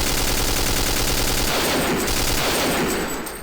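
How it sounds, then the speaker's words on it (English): Sustained automatic gunfire from a machine gun in the video game Castle Gothicstein, a loud continuous burst for about three seconds with dense rapid shots, fading slightly at the end, no voices. "use the machine gun to take those guys out down there"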